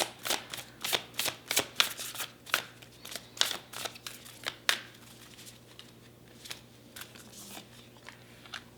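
Tarot cards being shuffled and drawn, producing a series of crisp, close riffling snaps in quick bursts that thin out into softer handling sounds toward the end.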